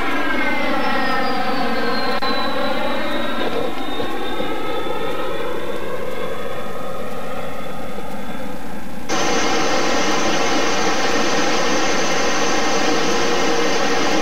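A Fouga 170 jet making a low flyby over a runway: a loud, whining engine roar that sweeps downward in pitch as it passes, then shifts abruptly to a steady, even drone.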